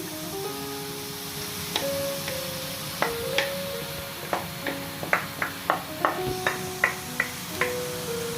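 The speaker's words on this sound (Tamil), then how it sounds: "இப்போ இந்த முட்டை வந்து மிரக்கறிகளோட சேர்ந்து வதங்கி கொண்டிருக்கு" Egg and chopped vegetables sauté in a pan for shrimp kottu roti, a steady sizzle broken by a run of sharp metallic clinks and taps that quicken toward the end, close and fairly quiet with no talk.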